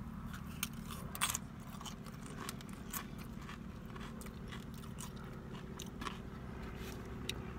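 Close crunching and chewing of nacho cheese tortilla chips used as a scoop for a Chipotle meal, with repeated sharp bites over a steady low background hum.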